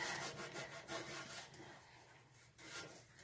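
Coarse, rhythmic scraping as salt is scrubbed across a pan to lift burnt-on gunk, close and fairly faint, with repeated back-and-forth strokes.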